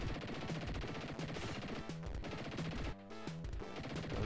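Rapid gunshots from the Dick Tracy game on the Sega Mega Drive, a steady stream of punchy, repeating shots over chiptune music, with a brief drop-out partway through.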